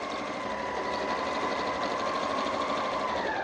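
Sewing machine stitching steadily and backstitching along the fabric edge of a market tote, a continuous close mechanical whir with a rapid needle rhythm and no talk.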